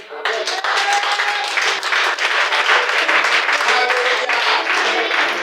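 A church congregation bursts into loud, continuous applause and clapping, dense and close, with cheering voices mixed in throughout.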